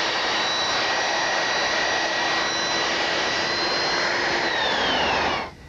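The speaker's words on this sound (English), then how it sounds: "we're going to round over this sharp edge right here using a belt sander" A belt sander rounds over the sharp edge of a wooden miter, a steady, loud, broadband whir with abrasive grinding that runs unbroken for about five seconds before it cuts off.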